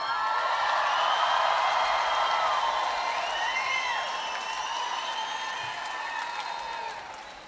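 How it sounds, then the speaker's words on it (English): Sustained applause and cheering from a large concert crowd at the iTunes Festival 2014, dense and continuous, with whoops rising above it before slowly fading. "I just want to hear really loud applause"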